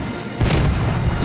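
A loud, booming explosion from an enemy destroyer sinking in a naval warship video game, a dense rumbling blast that swells midway and fills the short clip.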